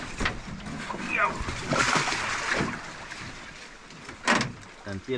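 A large amarillo fish of over 40 kg is dropped into the water from a boat, a splashing and sloshing burst close by, with people talking over and around it.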